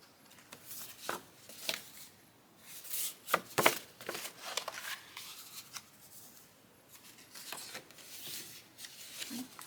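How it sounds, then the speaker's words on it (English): Sheets of dyed paper stacked into a thick bookbinding signature are flipped through by hand, giving soft, irregular riffling and rustling bursts of varying loudness, fairly close and with no voice. "I'll kind of flip through it before I sew the signature together."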